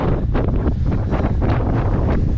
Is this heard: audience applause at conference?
no